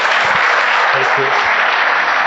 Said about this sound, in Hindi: एक बार और ताली बजा